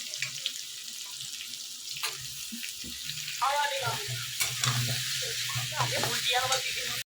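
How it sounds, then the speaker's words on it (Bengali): Potatoes and chopped onions frying together in a pan for a fish curry, a continuous close sizzle with some clinks and stirring, and a faint voice in the background. "সেই পেঁয়াজগুলোকে দিয়ে দিচ্ছি তারপরে আলু আর পেঁয়াজ একসাথে ভাজা ভাজা করবো"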